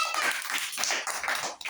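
Young children at an anganwadi clapping their hands, a quick run of uneven, fairly close claps with some faint voices mixed in.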